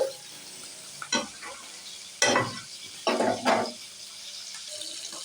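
Fish pieces frying in hot oil in a home kitchen, with several loud bursts of close sizzling and spattering between quieter stretches of low kitchen noise.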